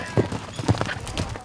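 Horses gallop fast across the Arizona desert, their hooves clip-clopping in quick, close, uneven thuds about every half second.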